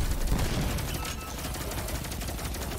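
Rapid weapon fire in Destiny 2 sounds as a dense, continuous stream of shots, fairly quiet and unbroken for a few seconds.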